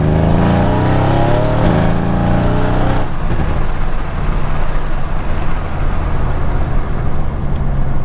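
A Mercedes C63 AMG engine revs hard up close, first climbing in a rising, tonal snarl, then settling into a loud, rough, continuous roar with no voices.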